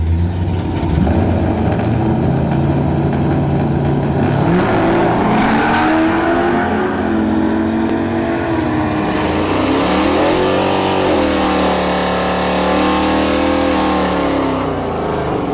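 Drag race cars at Bradenton Motorsports Park launch and accelerate hard down the strip, loud engines rising in pitch through repeated sweeping gear changes, with a second engine surging in later.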